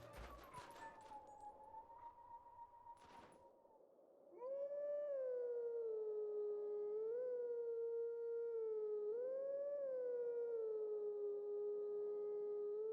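A long, wavering wolf howl rises and dips for several seconds at the Howling Stone in the game Twilight Princess, loud and sustained after a brief burst of game sound effects and rustling.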